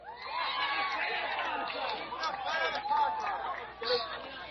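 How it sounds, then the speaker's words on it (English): Spectators at a Maryland 2A state championship softball game between Middletown and Easton cheer and chatter loudly in a steady crowd roar, with a few whoops rising near the end. "Crowd cheers for the spectator who made a beautiful catch and then threw it back over the screen to the catcher."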